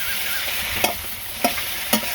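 Fish frying in a pan gives a steady close hiss and sizzle throughout, broken by three brief louder scraping stirs of a utensil at roughly even intervals, with no voices.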